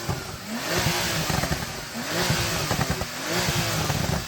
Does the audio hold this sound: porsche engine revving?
yes